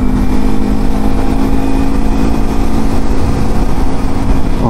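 A motorcycle engine drones loud and steady throughout a ride on a rainy road, a constant close rumble mixed with wind and road noise and no break.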